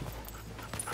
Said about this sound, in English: Yelena has a dog with her.